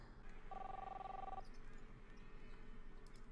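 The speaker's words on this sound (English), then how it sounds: "answer the phone" A telephone rings once in an electronic, steady tone lasting about a second, faint against a quiet room hum, followed by low background stillness.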